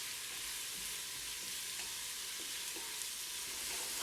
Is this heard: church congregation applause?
no